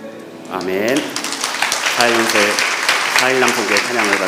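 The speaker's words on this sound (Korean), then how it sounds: "찬양을 받으신 하나님께 영광의 박수 드립니다" A church congregation at a Friday worship service claps together in steady, sustained applause, with a voice speaking over it throughout.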